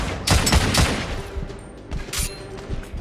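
Carbine gunfire in a video game: several loud, sharp shots in quick succession early on, then a few more scattered reports amid ongoing game noise.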